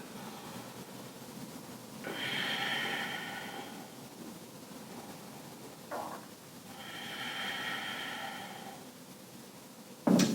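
Slow, deep breaths are drawn in and out while holding a malasana yoga squat, two long audible exhales spaced several seconds apart over quiet room sound, ending with a short bump.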